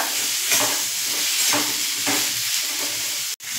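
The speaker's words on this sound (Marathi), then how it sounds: "अशा पद्धतीने ही भाजी बघा अशी हलवून छान घ्यायची आहे।" Red pumpkin pieces with turmeric and salt fry in a pan while being stirred. A loud, continuous close-up sizzle carries a few soft scraping strokes of the spatula.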